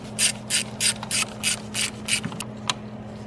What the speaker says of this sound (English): We're gonna get off these ground straps. They're held in with T25 bolts.